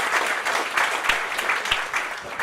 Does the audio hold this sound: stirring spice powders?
no